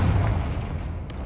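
A Confringo blasting spell goes off in the video game Hogwarts Legacy, a single heavy, booming explosion that rumbles and decays over about a second, loud and close with no voices.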